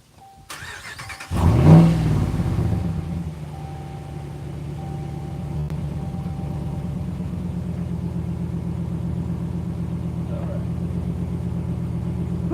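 A truck engine turns over and catches, then settles into a steady, close, low idling rumble that runs unchanged with the air conditioning on.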